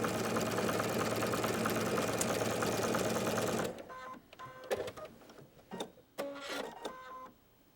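A sewing machine runs loud and steady while quilting a wobble stitch on a reversible cotton jacket, then stops and gives way to quieter clicks and handling noises.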